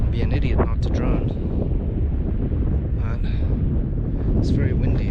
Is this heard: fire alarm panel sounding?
no